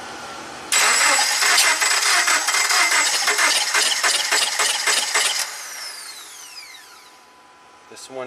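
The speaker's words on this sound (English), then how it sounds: "Let's see if both of these spark plugs fire when we crank the engine over." A 2009 Subaru Forester with a crank-no-start fault cranks over without catching: a rapid, rhythmic starter churn for several seconds that stops abruptly, followed by a fading whir and quiet.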